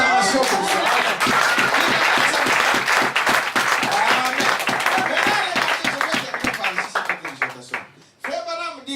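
A church congregation applauds loudly for about seven seconds, a dense wash of clapping that thins into scattered claps, with voices rising briefly near the end.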